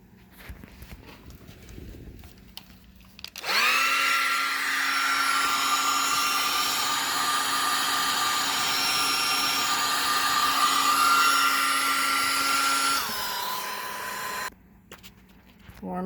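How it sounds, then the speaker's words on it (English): A hair dryer blows steadily for about ten seconds while warming a carbon fiber dash overlay in a 1993 Honda Del Sol, a close, loud, even whine that switches on abruptly and cuts off, with quiet room sound around it. "Warm things up with the hair dryer."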